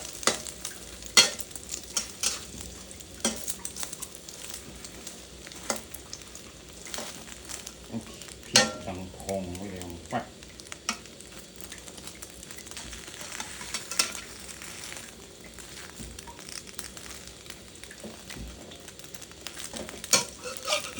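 Soft sizzling of an omelette frying in a hot pan, with scattered scraping and stirring taps throughout; no talking.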